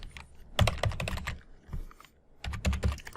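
Quick bursts of computer keyboard typing while a password is entered, close and crisp key clicks in two flurries separated by a short pause.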